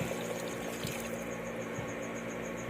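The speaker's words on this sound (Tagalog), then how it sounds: "lagyan natin ng tubig" Water pours into a simmering pot of paksiw na bangus, a steady close rushing stream with a constant noisy wash and occasional small knocks.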